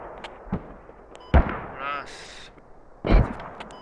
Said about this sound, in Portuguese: Supply que explodiu.